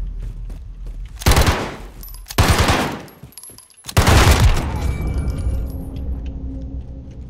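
Uzi submachine gun in a video game fires in three loud, close bursts of rapid automatic fire, each a dense rattling volley, with a lingering echoing tail after the last burst.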